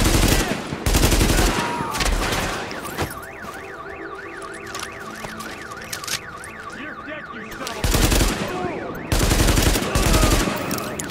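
Gunfire in The Division video game, loud dense rapid bursts at the start and again near the end, with a wailing alarm-like tone rising and falling through the quieter middle stretch.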